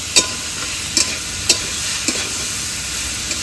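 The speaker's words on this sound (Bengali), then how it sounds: "এবার ঘাটকলগুলো দিয়ে দেবো। এবার ভালো করে ভেজে নেব।" Ghatkol leaves fry in a pan with a continuous loud sizzle, punctuated by about five sharp spatula clacks at irregular intervals as they are stirred.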